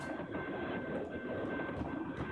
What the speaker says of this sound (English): you guys are enjoying rolling the train by here